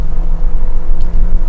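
A Renault Captur with a 1.6 engine and CVT transmission climbs a hill, its engine droning loud and steady up close in a continuous strained hum.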